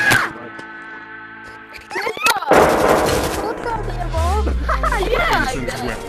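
Gunfire in the game Trouble in Terrorist Town: a quiet stretch, then a loud burst of shots around the middle, with players shouting and talking over the shooting afterward.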